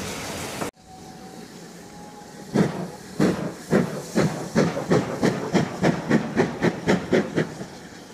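A steam locomotive hisses loudly, then settles into a rhythmic chuffing that quickens, air forced through the firebox in steady pulses.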